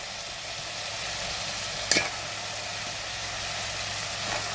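Blue crabs (alimasag) hit a hot pan and sauté in a steady, even hiss, with a single sharp clack partway through as they land or are stirred, close and moderately loud with no talk.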